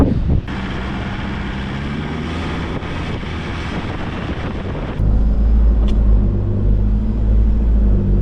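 Wind buffets the microphone on a beach on Stradbroke Island with a low, rumbling roar that grows heavier partway through, steady and close, with no voices.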